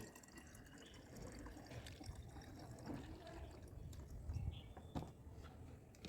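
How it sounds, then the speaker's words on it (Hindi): A buttermilk solution is poured from a small container into a bottle, a faint, close trickle and gurgle of filling liquid with a few drips and light handling knocks. "इस तरह से बोतल में घोल को भर लेंगे"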